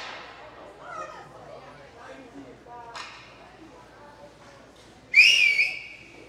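A referee's whistle at a U14 youth ice hockey game gives one loud, trilling blast near the end, after a stretch of rink noise and distant chatter.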